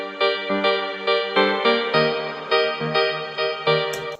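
The Mystery piano preset from the free Quilcom Mystery plugin, run through effects, plays a steady series of roughly a dozen chords with a longer, smeared tail between hits, close and alone.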